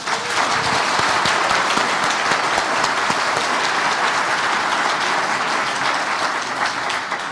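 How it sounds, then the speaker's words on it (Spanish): Loud, steady applause from an audience at a conference on democratic institutions, dense clapping filling the whole stretch without a break and no voices heard over it. "se merece siempre un gran aplauso por eso"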